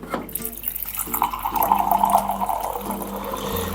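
Water runs steadily from the taps of a VIO X218-FCB black bottom-load compressor water cooler into a 350 ml cup, a continuous gushing stream with faint clicks over a low electrical hum.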